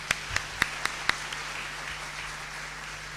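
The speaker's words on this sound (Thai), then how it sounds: "วันนี้ขอเสียงปรบมือให้กับวิทยากรของเราทุกๆท่านค่ะ" A few sparse handclaps at a Thai science and technology seminar, five or six sharp claps in the first second over a steady room hum, then fading into quiet background.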